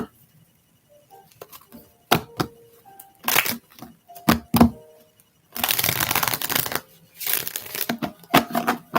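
Tarot cards are shuffled in several crisp, fluttering bursts separated by short pauses, close and fairly loud.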